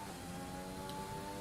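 An F1 car engine in a racing video game holds a steady, high-pitched whine on a flying lap, constant and moderately loud with no gear changes or talk.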